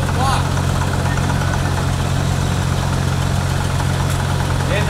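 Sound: scrap car engine running

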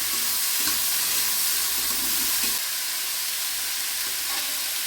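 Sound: banana flower (mocha) frying in a pan

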